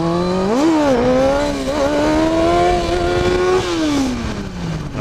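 First-gear wheelie on a motorcycle: the engine revs hard and rises, holds a high wavering pitch for a few seconds, then drops away as the throttle closes, loud and close with no talking.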